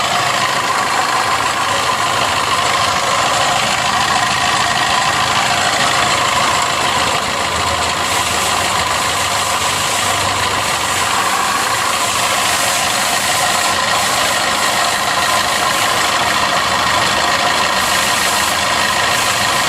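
An old vehicle's engine idles with an abnormal noise while coolant leaks near the water pump, a steady, dense mechanical drone with a knocking texture, close and unbroken from start to finish, with no voices.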